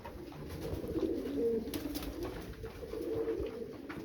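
Fancy pigeons in a loft give low, rolling coos that repeat in soft, close bursts over a faint background hum, with no voices.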